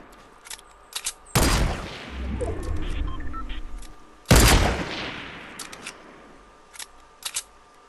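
Gunfire in Fortnite, two loud sharp blasts each trailing off into a rumbling decay, with faint clicks and small taps in between, close and punchy.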